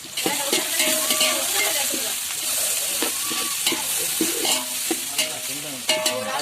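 Onions, green chilies and whole spices sautéing in hot oil for chicken biryani, a steady loud sizzle with repeated scraping stir strokes of a spoon against the pan throughout.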